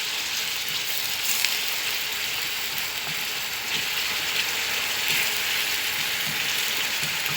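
Vegetables sautéing in a pan for an oven-baked cauliflower dish, a steady, even sizzle that holds at one level throughout, close by and alone with no talking.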